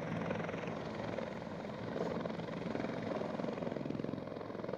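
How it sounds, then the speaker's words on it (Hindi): A helicopter arrives and settles onto an airport apron. Its rotor and engine drone is loud, close and steady throughout, with no talk. "हेलीकॉप्टर योगी बाबा का आ चुका है"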